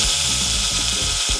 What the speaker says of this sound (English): I'm not sure which side I'm supposed to be drilling this